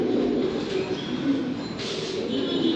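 Blue Bar Lahori pigeons from a breeding pair coo softly nearby in repeated low, throaty phrases over faint background noise.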